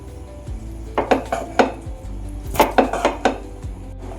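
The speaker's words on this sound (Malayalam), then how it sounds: "ഇനി ലാസ്റ്റ് നമുക്ക് കുറച്ച് സെലറി കുറച്ച് മല്ലിയില ഒന്ന് ഇട്ട് കൊടുത്തിട്ട് ഒന്നുകൂടെ മിക്സ് ചെയ്യാം" Chicken vegetable pasta with celery and coriander being mixed in a pan, giving a series of close metallic clinks and scrapes of a utensil against the pan, several quick knocks in two clusters over a low steady background hum.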